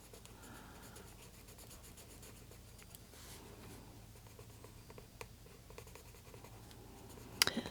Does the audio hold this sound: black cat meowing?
no